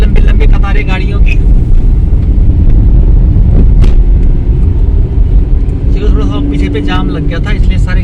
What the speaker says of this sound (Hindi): ये लंबी लंबी कतारें गाड़ियों की।